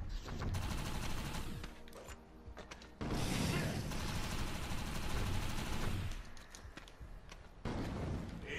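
Rapid bursts of gunfire from a shotgun firing ordinary projectile rounds in the video game Defiance 2050 on PS4, coming in dense, loud volleys separated by short pauses.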